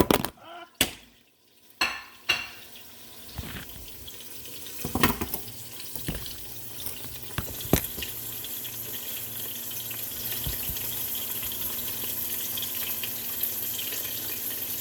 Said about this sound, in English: I'm gonna go ahead and add the sausage in here because I want those to saute down as well.